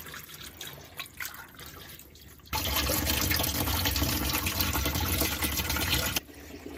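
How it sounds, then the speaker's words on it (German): Water poured into the grey water tank of a Ford Nugget camper van, a loud steady gushing splash lasting several seconds that starts and stops abruptly, with quieter dripping and handling sounds around it. "Und jetzt kippt Trixie halt hier oben das Wasser rein."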